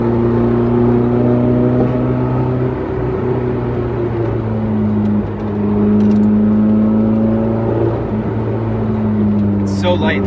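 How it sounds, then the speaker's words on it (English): A 1989 BMW M3 with its light 25-year-old four-cylinder engine is pushed through corners while passing other cars, giving a loud, continuous close-up engine drone with gently shifting pitch as it holds revs and eases off. "there's nothing more satisfying than forcing passes on a brand new M3 in this 25-year-old 4-cylinder"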